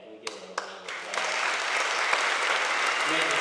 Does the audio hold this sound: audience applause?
yes